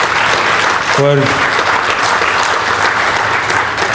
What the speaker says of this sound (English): he deserves a huge, huge, huge round of applause